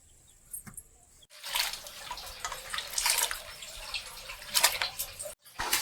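Karonda fruits being washed by hand in a basin of water, a continuous splashing and sloshing that runs for several seconds near the microphone, with no voices.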